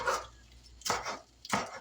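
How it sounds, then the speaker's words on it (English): Knife chopping spinach on a cutting board: three crisp cuts spaced apart, close and clear with no talking. "Now we're chopping up our spinach."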